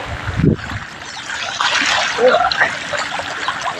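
Monsoon floodwater surging against vehicle tyres on a deeply flooded road, a steady rushing, gurgling wash heard close up, with voices talking over it.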